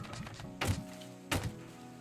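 Tank shell striking and glancing off armor in the Scrap Mechanic video game, two loud, short metallic thunks spaced about half a second apart over a steady low mechanical hum.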